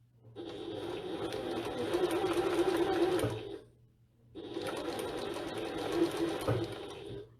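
A sewing machine stitches along piping cord for a bag in two steady runs of rapid whirring, separated by a short pause, close and clear.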